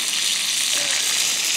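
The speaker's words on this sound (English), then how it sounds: "Got some sausage frying." Sausage sizzles in a pan while breakfast is cooked outdoors on a river trip, a loud, steady frying hiss throughout with no speech.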